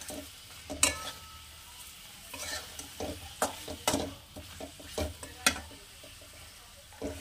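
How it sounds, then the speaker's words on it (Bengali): Fried potatoes are stirred into a spice masala in a pan, with a soft sizzle under irregular scraping and clinking strokes of a spatula against the pan, close and fairly quiet, with no talking. "এবার এর মধ্যে আমি দিয়ে দেব আলুগুলো, ভেজে রাখা আলুগুলো। আলুগুলো দিয়ে একটু কিছুক্ষণ কষাবো।"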